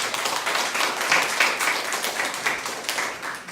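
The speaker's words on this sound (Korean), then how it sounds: "우리 주님 앞에 다시 한번 영광의 박수를 드리겠습니다." A church congregation claps together in praise at a Tuesday worship gathering, producing dense, steady, moderately loud applause throughout with no letup.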